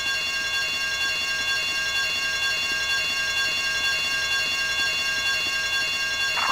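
A bank alarm in GTA Vice City rings steadily and loudly without a break, a constant buzzing electronic tone over the game's low rumbling background.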